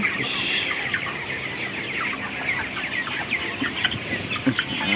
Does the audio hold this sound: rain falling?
no